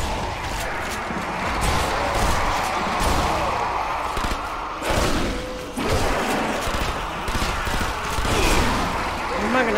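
Dense, continuous gunfire and booming impacts in the zombie shooter Zombie Army Trilogy, loud and busy throughout, with a voice talking over the shooting.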